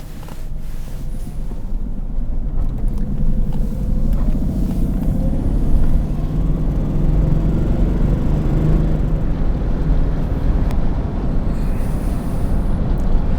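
A 1989 Jaguar XJS V12 convertible cruises with its fabric hood raised, giving a steady low engine and road rumble mixed with constant wind buffeting throughout, with no talking.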